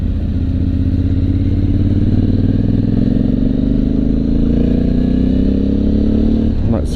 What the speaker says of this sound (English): Like I say, it's such a nice bike to ride.